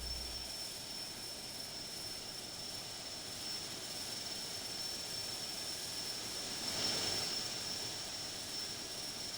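Steady, even roar of an airliner's engines in the Infinite Flight simulator game, a constant broadband hum that swells slightly near the end, with no one talking.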